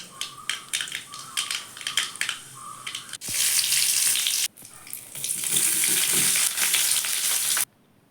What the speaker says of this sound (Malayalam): കടുക് പൊട്ടിച്ചെടുക്കുകയാണ്.